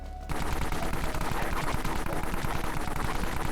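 A hair razor gun in the Dead Frontier video game fires in a rapid, unbroken burst after a brief quiet start, with dense rattling shots that sound loud and close throughout.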